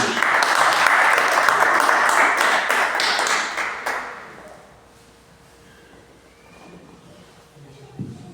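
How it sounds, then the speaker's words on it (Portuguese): Congregation clapping in praise during a church service, a dense burst of applause for about four seconds that then drops away to quiet room tone with faint murmuring. "Que as palmas louvem ao Senhor."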